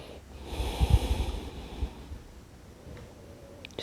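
Slow, deep breaths during a yoga session, a soft airy inhale and exhale with a snorting nasal rush near the start, heard close and quiet with no talking.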